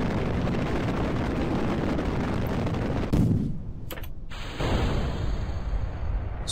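Solid rocket boosters roar during a rough launch in the Kerbal Space Program game, a loud dense rumble that drops away abruptly partway through and leaves a thinner engine tone with a high steady whine.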